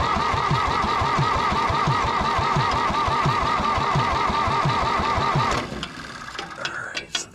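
Old John Deere 1010 track loader diesel engine cranking and catching, a loud rhythmic chugging for several seconds that suddenly stops, followed by quieter clanks and shuffling nearby.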